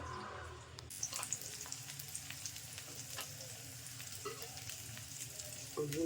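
Adai batter sizzles steadily in oil on a hot tawa, a continuous close frying crackle with a few faint utensil touches.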